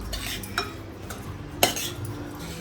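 A spoon scrapes and clinks against a pan as a thick fresh-coconut filling with cardamom powder is stirred, with two sharper knocks over a soft background hiss.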